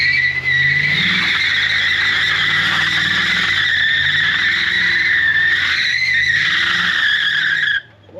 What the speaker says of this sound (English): can you at least do a burnout or a little spin them?